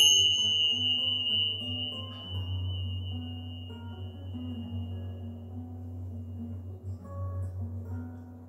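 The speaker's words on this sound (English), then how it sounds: "Let your mind, your body, and your soul absorb the vibrations of the bells" Bells ring during a yoga relaxation, one clear high tone sustaining and slowly fading over a steady low drone and soft background tones.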